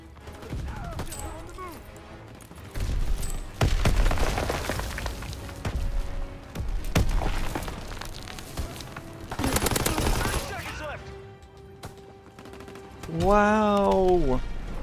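Pistol gunfire in a video game: repeated sharp shots in bursts, mixed with other game noises and a spoken voice over the action.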